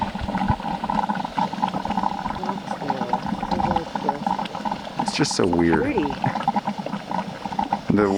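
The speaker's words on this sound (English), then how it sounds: "The weird gurgling sound they're making." Bubbling hot springs at Yellowstone National Park gurgle and churn continuously at close range beneath a person talking, with brief higher splashy bursts midway.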